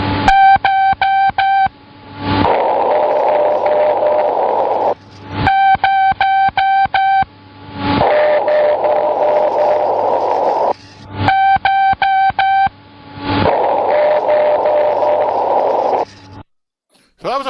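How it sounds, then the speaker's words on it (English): An amateur radio moon echo: three rounds of loud, sharply keyed tone bursts, each followed by a hiss of static carrying a faint, delayed echo of the tone returning off the moon. "So that was a pretty strong echo off the moon."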